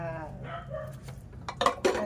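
Dishes are washed with cheap dish soap, pots and plates clinking and knocking sharply near the end over a low running hum.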